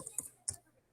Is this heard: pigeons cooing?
no